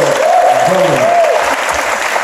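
Brief, dense applause from an audience fills the space, with a voice calling out over the first second before the clapping carries on steadily.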